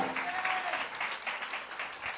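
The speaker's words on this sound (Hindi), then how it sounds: "जोरदार तालियां कलीसिया" Church congregation clapping, a quiet but continuous patter of many hands with pulsing swells, heard alone without speech.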